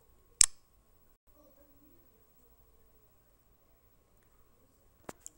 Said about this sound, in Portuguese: agora eu vou tirar a foto